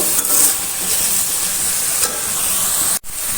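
Prawns sukka masala, Kundapur style, frying in a pan, a steady close sizzle and hiss with scraping stirring throughout, ending in a brief sharp clatter near the finish.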